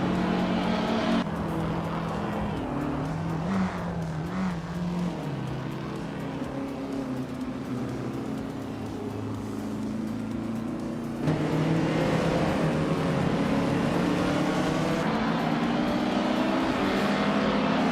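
Honda S800 RSC race cars drone steadily through a racing video game, the engine note shifting with gear changes and growing louder and brighter partway through, continuous and without talk.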